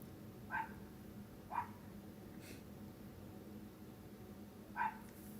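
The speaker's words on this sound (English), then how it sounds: "I apologize for my neighbor's dog" A neighbor's dog barking in the distance, three short faint barks spaced irregularly over a quiet background.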